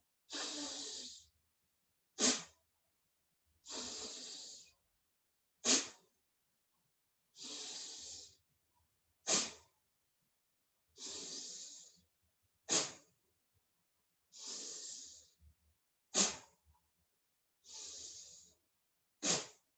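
Rhythmic forceful breathing of bhastrika pranayama yoga practice, long hissing inhales alternating with sharp snorting exhales through the nose, repeated steadily about a dozen times, close and clear.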